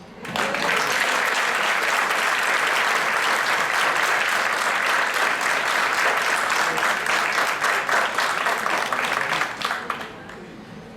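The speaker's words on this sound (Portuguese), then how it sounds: "solicitar à plateia uma salva de palmas ao professor Wimmer pelos 21 anos da nossa Cine Debate" An audience at a Cine Debate film screening gives the professor a dense, sustained round of applause that stays loud and steady for about ten seconds before thinning out at the end.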